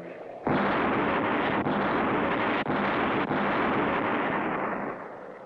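Booming cartoon pirate ship cannon fire, a loud sustained blast that holds for several seconds with a few sharper jolts inside it before slowly tailing off.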